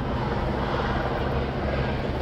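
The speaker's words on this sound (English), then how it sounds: "Probably hear that helicopter above me." A police helicopter flies overhead during a large protest, giving a steady, continuous rotor and engine roar with no breaks or change in level throughout.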